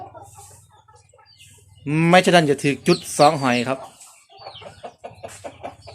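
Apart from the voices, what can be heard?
chickens clucking at night on a farm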